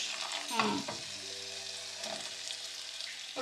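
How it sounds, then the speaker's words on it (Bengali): Hilsa paturi wrapped in bottle gourd leaf fries slowly in a pan on low heat, a soft steady sizzle with a few stirring scrapes and a low steady hum underneath. "ভাজি করতেছি"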